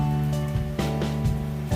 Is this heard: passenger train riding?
no